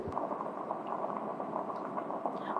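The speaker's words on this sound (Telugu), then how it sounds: "మరుగుతుంది అంతే" Sliced potatoes fry in a little oil in a clay pot with onions, giving a soft, steady bubbling and crackle, close and quiet, with no talking.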